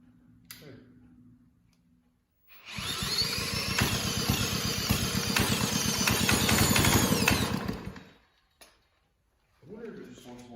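A late-1940s Clinton engine on a cyclebar sputters to life and runs for about five seconds with a loud, rapid, ticking putter, then dies. Brief voices and quiet handling noises come before and after.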